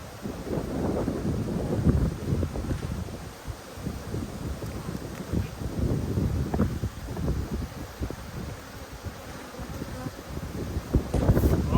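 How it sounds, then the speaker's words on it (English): Honey bees swarm around the side of an open hive box, a dense buzzing drone with gusts of wind across the microphone and occasional bumps from handling. "There's an awful lot of bees on the side of that box"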